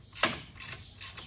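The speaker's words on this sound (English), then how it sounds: "Ratcheting wrenches, just super handy for stuff like this." A ratcheting wrench clicks in a few short bursts while fastening parts during a long travel suspension install on a 2020 Yamaha YXZ-1000R, quiet and close with brief pauses between strokes.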